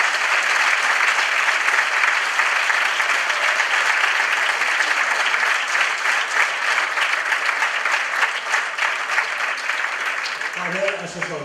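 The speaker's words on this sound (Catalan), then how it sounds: "Un aplaudiment per tots i totes." Sustained loud applause from an audience at a book and short film presentation, steady clapping filling the room before it thins out at the end, where a voice begins.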